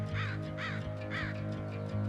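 Crows caw close by in a series of about four harsh, wavering calls, loud over a steady low hum.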